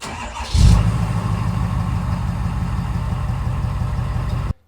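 A 2011+ Ford 6.7 Powerstroke diesel truck engine with a Banks Monster 5-inch DPF-back exhaust barks to life with a sharp burst, then settles into a deep, steady, rumbling idle through a throaty exhaust until it cuts off.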